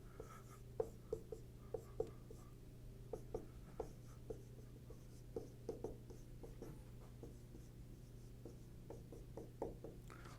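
Marker or chalk writing on a classroom board during a math lecture: steady scratchy strokes with sharp taps, repeating for about ten seconds over a constant low hum of room noise.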